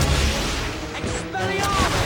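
The Stupefy spell is cast in the Harry Potter and the Half-Blood Prince video game, a short, booming magical blast with a whooshing crackle, mixed with game audio and a voice.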